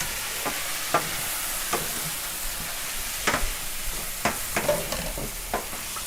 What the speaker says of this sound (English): I'm going to stir everything up in here. Let the pasta combine with all the fat and the meat.